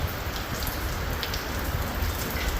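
Light drizzling rain in a village falls in a steady, even patter on the surfaces nearby, a soft continuous hiss with no voices.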